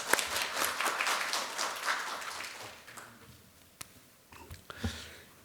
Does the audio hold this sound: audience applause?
yes